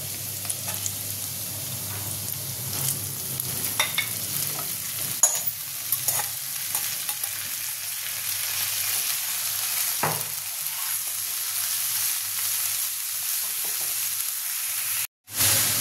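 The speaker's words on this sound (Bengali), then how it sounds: "আদাটা আমাদের ভাজা ভাজা হয়ে গেছে, এবার আমি মোচাটা দিয়ে দেবো।" Ginger and banana flower fry in a pan, giving a steady close sizzle with bursts of stirring and scraping all the way through and a brief gap near the end.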